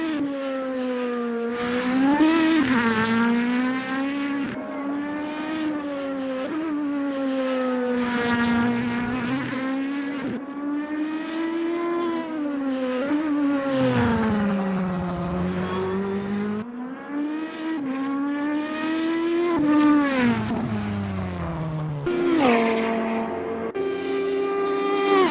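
Super GT race cars at Fuji in Assetto Corsa: several high-revving engines whine continuously, pitch rising through gears and dropping on shifts, loud and close with overlapping cars.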